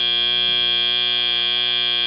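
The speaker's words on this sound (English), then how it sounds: "Right at the buzzer." A steady electronic buzzer sounds continuously at the end of a match at a FIRST robotics competition, a bright sustained multi-tone drone with a low hum beneath it, holding unbroken for about two seconds.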